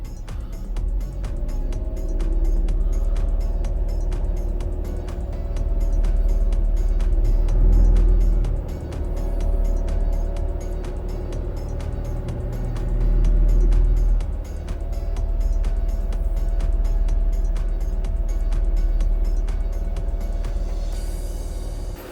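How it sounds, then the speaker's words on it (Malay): Steady low road rumble and drivetrain hum inside a Perodua Ativa cruising on a highway at about 2500 rpm, a continuous loud drone that swells slightly at moments. "Jadi kita nak tengok kan sama ada bunyi jalan tu berapa."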